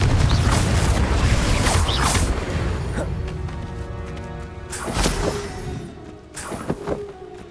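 A Confringo blasting spell goes off in Hogwarts Legacy, a loud rumbling boom with crashing debris that settles, followed by two sharper bursts near the end, with no talk.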